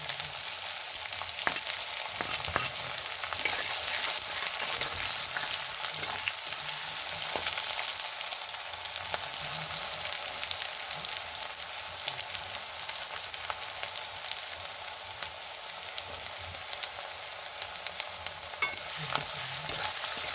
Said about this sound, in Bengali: কড়াতে আমি শুকনো লঙ্কা ফোড়ন দিয়ে তারপর পেঁয়াজ কুচি, আদা কুচি, রসুন কুচি, লঙ্কা কুচি সব কিছু দিয়ে এখন নাড়ানাড়ি করছি।